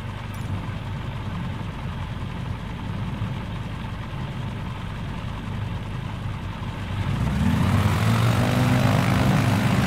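A Savage Cub propeller plane in Microsoft Flight Simulator 2020 departs runway 24 at Ninoy Aquino International Airport, Manila, its engine droning steadily, then swelling louder and deeper as takeoff power comes on near the end; no one speaks.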